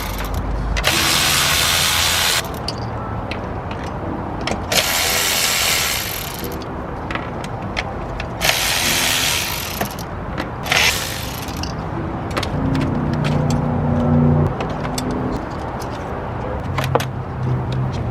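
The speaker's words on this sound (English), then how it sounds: "we're going to go ahead and loosen the 10 bolts for the ignition coils" Ratchet loosening ignition coil bolts on a Lexus LS430 engine, with bursts of rapid clicking ratchet strokes repeating several times between quieter pauses and small clinks of tools, close up.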